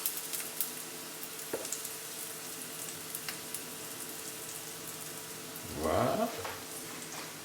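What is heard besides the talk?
food frying in a pan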